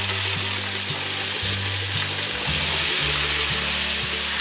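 Water splashes into a hot frying pan and erupts into a loud, dense, continuous hiss of sizzling steam, close up and unbroken, with a low background hum beneath it.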